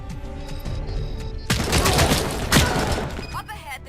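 AK-74 fire in a RoboCop: Rogue City DLC shooter game, a sudden burst of rapid automatic shots with sharp cracks and a heavy blast after a quieter stretch, loud and close, with a voice talking before it.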